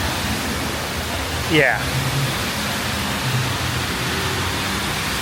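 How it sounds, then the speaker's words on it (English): Overflowing rainwater mixed with sewage rushes down a Washington, DC street after a storm, a broad, steady hiss of flowing water heard close and continuous while someone briefly speaks over it. "You can see the water is still progressing down this street. It's still actually moving."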